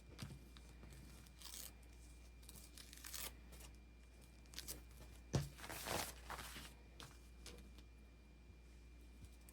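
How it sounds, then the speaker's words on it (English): Thin foundation paper is peeled and torn away from the sewn seams of a quilt block, making quiet papery rips and crinkles in uneven bursts, one louder tear near the middle, in an otherwise hushed room. "after we've finished peeling all of our papers off of our seams"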